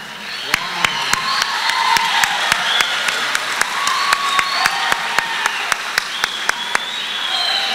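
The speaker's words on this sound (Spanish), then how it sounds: "Un aplauso para..." Large crowd applause fills a school graduation ceremony, dense steady clapping with sharp louder claps punctuating it throughout, some cheering mixed in.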